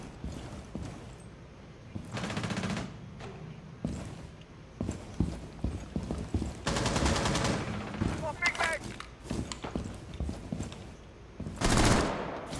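Bursts of gunfire in Rainbow Six Siege on the Park map, several loud rapid volleys separated by quieter stretches with footsteps and game noise, while players talk over the action.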